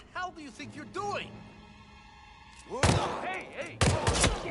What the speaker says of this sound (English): Hey, hey! Shit! Gunshots!